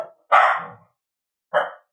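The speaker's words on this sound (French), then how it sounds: "vous allez vous rendre compte qu'elle peut aboyer" A pet dog gives two sharp barks indoors, a longer one followed by a shorter one after a brief pause, loud and close with silence around them.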